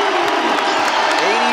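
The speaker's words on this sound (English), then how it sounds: "Crowd on their feet here." Basketball crowd at an Illinois State game cheering on its feet, a loud, dense roar of voices with whoops that fills the whole short moment.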